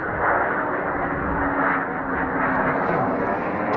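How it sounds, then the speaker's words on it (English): A military jet passes high overhead above a house, a continuous broad roar that holds steady and fills the air, fairly loud with no talk. "it's like a military jet up there"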